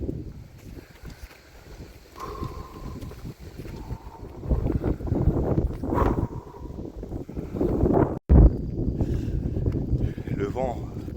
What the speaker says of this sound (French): Le vent, ça rafraîchit, mais il est fort et il est de face.